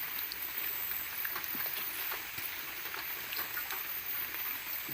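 Heavy rain falls steadily on a river at Sungai Seniawan during giant freshwater prawn fishing, a dense continuous hiss with scattered patters of drops close by.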